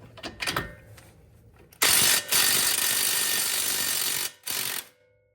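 A ratchet wrench loosens the top camber bolt on a Subaru strut, a few light clicks followed by two long, loud bursts of rapid ratcheting with a short pause between them.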